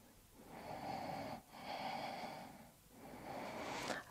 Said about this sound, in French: Encore 3 respirations.